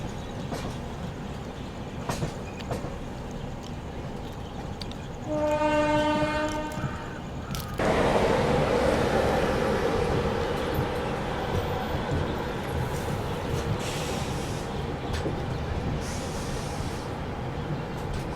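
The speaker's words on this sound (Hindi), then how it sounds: "मतलब एक ही साथ में दो ट्रेनों को ओवरटेक कर रही है सीआर राजधानी।" Central Railway Rajdhani Express, Mumbai CSMT to Hazrat Nizamuddin, running in heavy fog and overtaking two trains; a long loud horn blast, then a steady rumbling roar of train wheels on rails, heard close with no talking.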